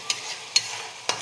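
Boiled, peeled eggs sauté in a pan for Bengali egg kosha, with three sharp spoon scrapes against the pan over a low, steady sizzle.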